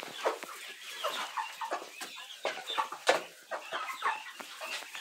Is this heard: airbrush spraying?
no